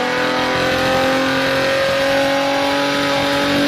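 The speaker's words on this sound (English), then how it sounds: "just a classic Honda engine that loved to rev and sounded amazing doing it" An Acura TL Type S Honda engine revs high and loud, holding a strained, rising whine close up with a steady roar underneath.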